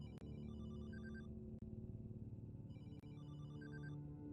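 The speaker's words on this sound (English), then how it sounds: "Is that a phone ringing?" A phone ringtone rings in the horror game Desolatium, an electronic melody that repeats in two bursts with a brief pause between them, heard alone over a low steady background hum.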